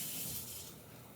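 Tap water running steadily into a kitchen sink to wet a fingertip, a close, even hiss of flowing water that fades slightly toward the end, with no voices.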